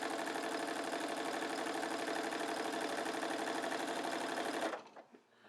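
A sewing machine runs steadily while stitching quilt strips together for a bargello quilt, a fast continuous whirring chatter up close for several seconds before stopping abruptly, followed by a few faint handling noises.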